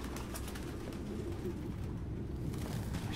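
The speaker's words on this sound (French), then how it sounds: "On peut dire que ce gars aimait les pigeons." Pigeons coo softly and repeatedly in a game scene from Detroit: Become Human, set against a constant low ambient hum with no talking.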